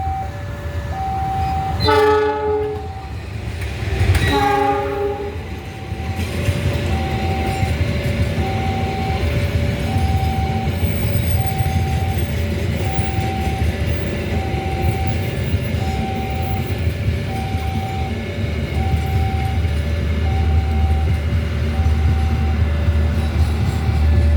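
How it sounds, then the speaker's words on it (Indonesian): Argo Semeru passenger train from Jakarta Gambir to Surabaya Gubeng passing west of Madiun station, two loud horn blasts followed by a long steady rumble and clatter of carriages, a repeating warning bell ringing alongside. "KA Argo Semeru telah melintas"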